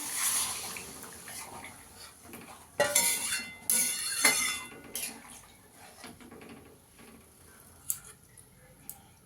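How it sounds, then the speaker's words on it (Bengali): Hot water poured into a pan of tangra fish curry with potatoes and flat beans, a hissing burst of sizzle mid-way amid clinks of utensils, then a quieter simmer with a couple of sharp taps. "এবার আমি জল দিয়ে দেবো ঝোলের জন্য"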